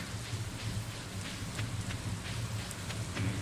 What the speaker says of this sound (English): we've been out in the rain all day.